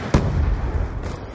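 A concussion grenade in Call of Duty Black Ops 2 bursts with one sudden loud boom, then rumbles off in a low, lingering roar during a multiplayer Domination match, with no speech.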